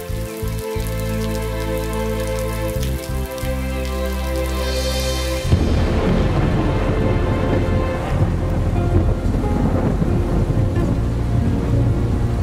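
Steady rain falls throughout, a dense hiss that thickens partway through, with soft music-like tones fading under it at the start.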